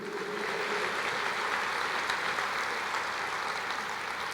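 Congregation applauding during a church sermon, a steady dense wash of clapping that holds evenly through the whole stretch with no talk over it.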